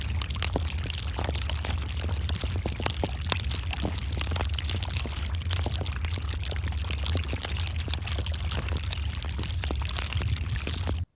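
Continuous rushing, trickling water inside a glacier crevice with scattered sharp cracks and pops, loud and close throughout.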